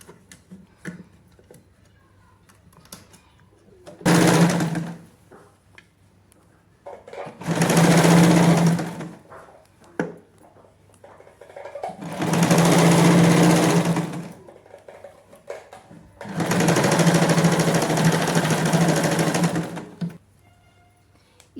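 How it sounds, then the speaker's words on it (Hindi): A sewing machine stitching a zip onto single-layer trouser fabric runs in four separate bursts of rapid, even mechanical whirring and ticking, each lasting a second or several, with quiet pauses in between. "सिंगल फैब्रिक के साथ अब हमने जिप को स्टिच करना है।"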